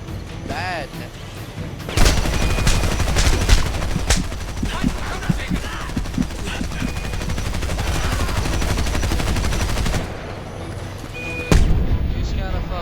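Sustained gunfire in the Homefront shooter, with dense bursts of automatic fire and loud shots going on almost without pause for about eight seconds, then a short lull and one more sharp burst near the end.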